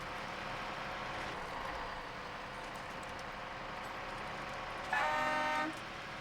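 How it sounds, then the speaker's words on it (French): A truck horn in the video game SnowRunner sounds one short honk lasting under a second over a steady engine drone, fairly loud against the constant background. "Le klaxon n'est pas joli."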